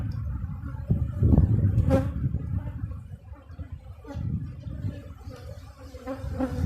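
Honeybees in a strong hive full of capped brood and honey, a low buzzing murmur close by that swells and fades, mixed with handling knocks from frames being lifted.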